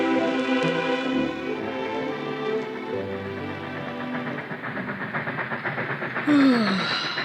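A freight train rolls along steadily with a loud, continuous rumble and hiss, with rhythmic clicking of the wheels building toward the end and a brief squeal near the close.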